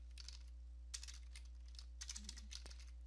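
A command typed on a computer keyboard, given as soft, fairly close bursts of keystrokes in a few short runs, with pauses between them and a steady low hum under everything.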